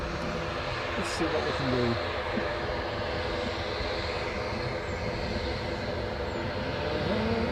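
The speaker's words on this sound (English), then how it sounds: "the Aer Lingus ATR 72 that you can hear on its way to Belfast" An Aer Lingus ATR 72 turboprop airliner heading to Belfast near Newcastle airport gives a steady, broad engine drone throughout, with a person speaking briefly over it.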